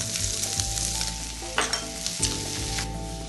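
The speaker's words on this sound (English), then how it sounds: "Now I'm going to add the shrimp. For about a minute. And the green peas go in now." Shrimp and green peas for fried rice stir-fry in a hot pan, with a steady close sizzle and a few sharp scraping clatters of the spatula against the metal.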